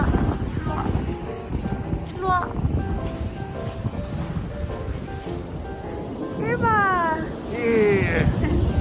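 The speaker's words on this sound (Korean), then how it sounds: "지금 영하 8도 칼바람이 불고 있습니다" Cold wind at minus 8 degrees Celsius roars and buffets the microphone beside crashing surf in Sokcho, while people talk and exclaim over the noise.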